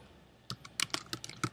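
A computer keyboard clatters close by as someone types during programming setup, with irregular bursts of crisp key clicks quickening after a short quiet start.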